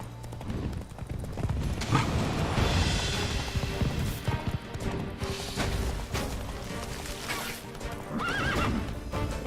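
A horse gallops in Witcher 3, with close clip-clop hooves and loud neighs and whinnies over game ambience, plus a few crashing impacts along the way.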